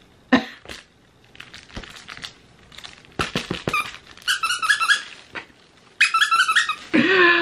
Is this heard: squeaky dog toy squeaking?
yes